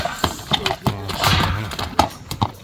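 A horse clip-clops with a few sharp hoof strikes, then lets out a clear, close whinny in the middle before the hooves return, heard alone without speech.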